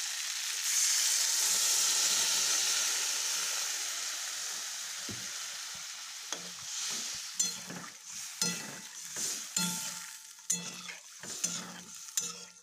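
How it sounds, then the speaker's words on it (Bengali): Water added to an egg and potato curry in a hot pan sets off a loud steady sizzle and hiss that gradually fades, followed by repeated clinks and scrapes of stirring. "এখন পানি দিয়ে দিচ্ছি পরিমাণ মতন"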